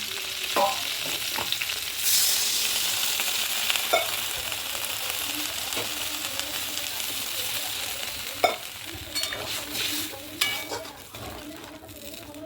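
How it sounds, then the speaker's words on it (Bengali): Loud hissing sizzle as water hits vegetables fried until reddish for shukto, then steady bubbling with occasional stirring clinks of a utensil on the pan. "এবারে আমি এর মধ্যে জল দিয়ে দেবো।"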